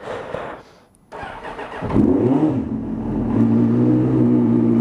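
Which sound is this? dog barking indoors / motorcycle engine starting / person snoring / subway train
motorcycle engine starting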